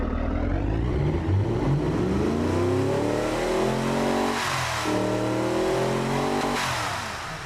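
A 936-horsepower Mini build's engine in BeamNG revs hard and loud, pitch climbing through gear changes with brief dips, a continuous aggressive roar with no voices.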